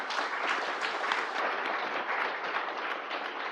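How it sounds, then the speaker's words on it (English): A studio audience claps for guests at the start of a geopolitics panel discussion, a dense, even patter of many hands sustained for several seconds without talk. "So please, a round of applause for our guest today"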